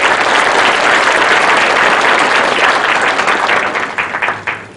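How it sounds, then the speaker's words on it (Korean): A lecture-hall audience at a court's public humanities event gives the court president a loud, dense round of applause that holds steady, then thins into scattered claps at the end. "법원장님께 격려와 응원의 박수 다시 한번"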